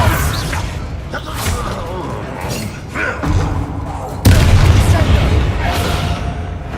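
Bombarda explosion spell in Hogwarts Legacy, heavy thumping booms with a loud abrupt blast past the four-second mark, amid ongoing battle noise and some voices.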